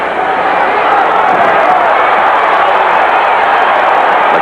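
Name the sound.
boxing crowd getting whipped up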